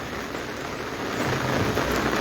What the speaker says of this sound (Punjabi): ਬਟਾਲੇ ਦੇ ਵਿੱਚ ਲਗਾਤਾਰ ਮੀਂਹ ਪੈ ਰਿਹਾ ਹੈ